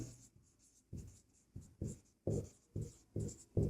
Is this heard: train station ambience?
no